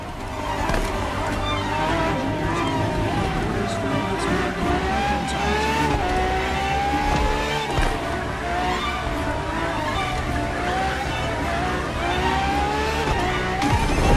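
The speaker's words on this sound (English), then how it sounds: "for this second lap, you'll be driving the FXXK" Ferrari FXX K in a racing video game, engine screaming loud and close through a lap with pitch climbing and dropping through gear changes, tires squealing in places, continuous with no talk.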